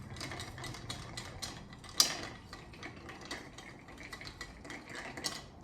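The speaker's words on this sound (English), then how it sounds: "You want to give it a good stir." Cocktail stirred over ice in a mixing glass, with steady soft clinking and rattling of ice against the glass running throughout, close and fairly quiet, plus one brighter clink.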